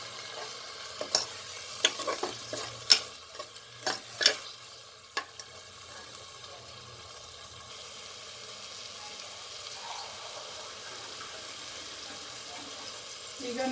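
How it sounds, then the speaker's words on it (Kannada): Rice for masala jeera rice fries in a pan, with several sharp scraping stirs early on, then a soft, continuous sizzle settling in alone. "ಒಂದು 5 ನಿಮಿಷ ಫ್ರೈ ಮಾಡ್ತೀನಿ ಅಕ್ಕಿ"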